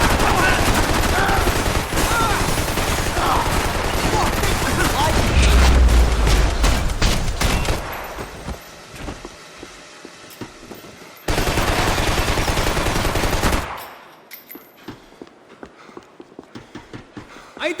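Loud, dense bursts of gunfire in the video game Max Payne 3, rapid shots rattling together with heavy booms, breaking off into quieter scattered shots and sound effects before another loud volley.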